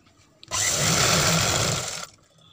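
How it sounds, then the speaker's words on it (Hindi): A sewing machine stitches a seam in a work-embellished suit, running as one steady, continuous whir for about a second and a half, close and fairly loud, starting and stopping abruptly with no talking. "तो दोस्तों इस तरह से हमने सिलाई लगा लिया है"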